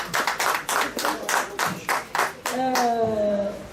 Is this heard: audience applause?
yes